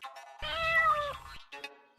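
A single cat gives one long, drawn-out meow close to the listener, followed by a brief shorter mew, with nothing else heard.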